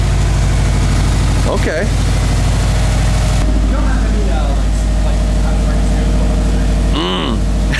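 A Subaru STI engine idling, with a steady low throbbing rumble and a ticking exhaust pulse from exhaust leaks, running continuously while people speak briefly nearby.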